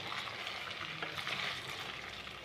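Chicken pieces for Balochi tikka fry and brown in a pan, making a soft, continuous sizzling hiss that stays even throughout, with no voices.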